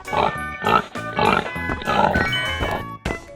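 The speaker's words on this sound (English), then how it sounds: "Pig." Pig grunts repeated in a rhythmic series from a 3D animal sliding video game, loud and up front over busy game music, with a few short bursts spaced across the clip.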